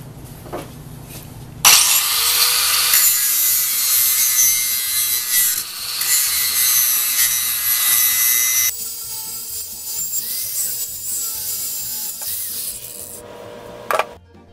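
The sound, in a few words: grinder grinding screw head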